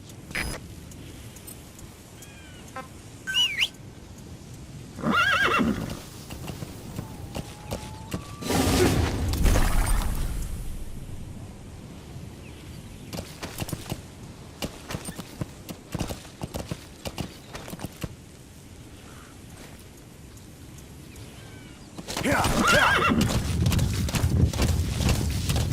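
Horse hooves clip-clop in bursts of steady trotting in Metal Gear Solid V, with a neigh or whinny and some creaking tack and mechanical clicks between quieter gaps; the hoofbeats swell loudest near the end.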